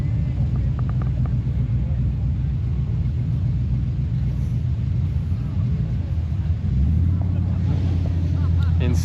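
Classic cars, a Studebaker Hawk among them, roll past at a busy cruise night, their engines a steady close rumble that swells into a deeper, louder drone near the end, with wind buffeting and faint voices.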